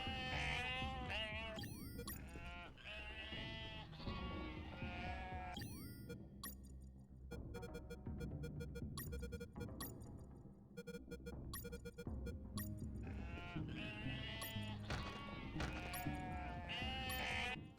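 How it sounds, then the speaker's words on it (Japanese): Sheep bleat repeatedly in the video game UnMetal, wavering cries rising and falling in clusters over a steady game soundscape with synthetic musical tones, loud and close throughout. "羊じゃねえかよ。"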